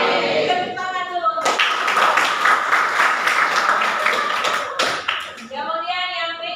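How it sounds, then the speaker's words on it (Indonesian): Classroom applause from students in a vocational school lesson, a burst of clapping rising after talk, lasting a few seconds before voices return. "Tepuk tangan dulu."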